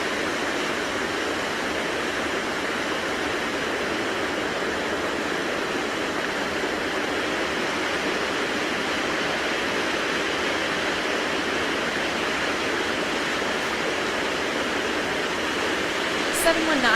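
A waterfall roars steadily, a dense, even rush of falling water filling the whole stretch at constant loudness.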